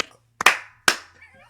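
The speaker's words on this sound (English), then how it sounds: "round of applause" Two sharp, close hand claps ring out a little under half a second apart, each crisp and bright with a short decay, in an otherwise quiet room.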